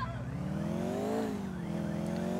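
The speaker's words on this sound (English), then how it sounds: "Why is my car skidding?" A car skids in Grand Theft Auto 4, a loud drawn-out tire squeal with rising and falling engine pitch layered over a constant rumble, close and continuous.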